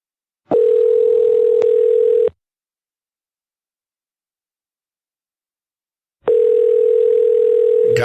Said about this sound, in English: Let you hear the dial tone.